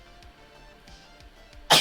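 A single sharp sneeze bursts out loudly near the end, close to the microphone, after a stretch of quiet room noise with faint soft sounds.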